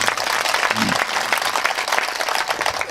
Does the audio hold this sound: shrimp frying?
no